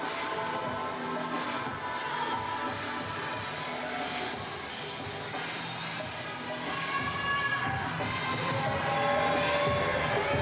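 Wrestling crowd cheers steadily for Mercy's entrance at a live show, a broad, constant roar of voices, loud and unbroken throughout with a slight swell near the end.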